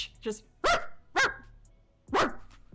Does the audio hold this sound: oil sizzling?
no